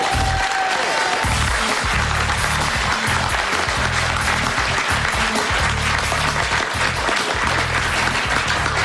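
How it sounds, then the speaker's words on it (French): Loud, sustained applause from a French radio studio audience for the writer Jean Dutourd, a dense, steady wash of clapping lasting throughout, with a low rhythmic thump running underneath. "voilà des applaudissements qui sont bien doux à mon cœur"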